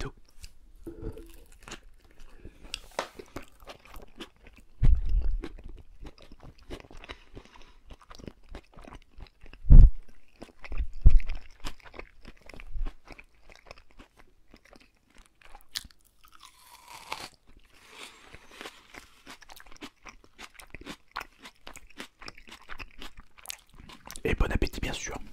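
A McDonald's Big Tasty burger is bitten and chewed close to the mic, giving scattered crunchy bites and soft mastication sounds with quiet pauses between.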